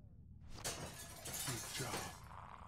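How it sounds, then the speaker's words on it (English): Window glass shattered with a bat in The Walking Dead video game: a sharp, loud crash of breaking glass followed by scattered tinkling shards over a noisy background. "Use the bat to shatter that window so you can reach in"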